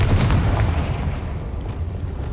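A Confringo blast spell from Hogwarts Legacy bursts with a sharp onset, then settles into a heavy, sustained low rumble that stays loud to the end.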